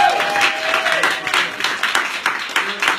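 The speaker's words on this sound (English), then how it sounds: "Give a round of applause" A round of applause from an audience at a sales training event, brisk clapping filling a few seconds while a voice speaks over it near the start.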